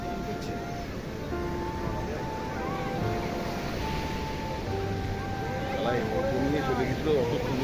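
Sea waves at Puri beach wash steadily onto the shore as a fishing boat comes in, with a constant roar and wind noise under light background voices.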